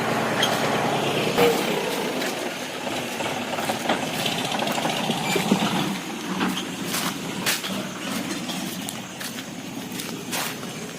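A heavy diesel tractor engine runs steadily and loudly, with knocking mechanical chatter and occasional clanks over the continuous rumble.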